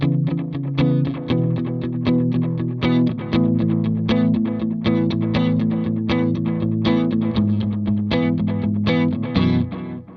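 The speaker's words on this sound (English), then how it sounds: "I have it set to a dual tape head delay with a little bit of spring reverb as well for kind of a really wet sound." An electric guitar played through a dual tape head delay pedal with a touch of spring reverb gives a wet, repeating stream of picked notes and chords, each smearing into echoes, with no voices.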